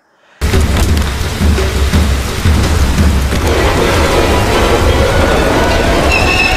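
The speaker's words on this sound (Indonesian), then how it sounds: "Tiba-tiba suara gemuruh petir menggelegar dan membuat permainan mereka berhenti" A heavy, continuous rumble of thunder rolls on for several seconds, loud and deep, with a steady wash of noise like rain underneath.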